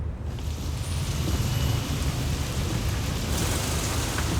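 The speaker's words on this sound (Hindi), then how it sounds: "अरे वाह, बारिश।" Steady rain with a low thunder rumble fills a scripted Indian TV comedy-drama scene, a dense continuous wash of noise with no talking.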